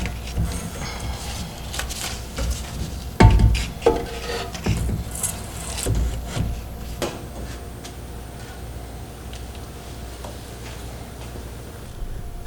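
An old radiator is pulled from the cramped engine bay of a Mitsubishi Evo 9, with scattered knocks, scrapes and plastic rattles, one sharp thump early on, then quieter shuffling handling noises.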